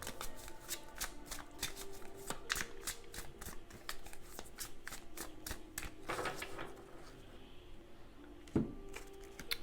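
Tarot cards being shuffled by hand: a long run of soft, rapid riffling clicks and flutters, close and fairly quiet, ending in a slightly louder shuffle.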